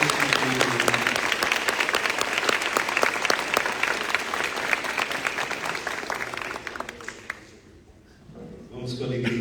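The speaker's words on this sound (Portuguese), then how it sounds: "Vamos aplaudir essa família que acaba de ser constituída." Loud, sustained applause from a wedding congregation, dense and steady for several seconds before it tapers off. Voices can be heard toward the end.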